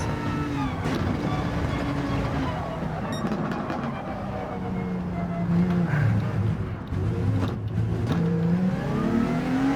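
Honda NSX GT3 race car in Gran Turismo 7, engine note rising and falling through gear changes in a steady, continuous drone with shifting pitch, with no talk over it.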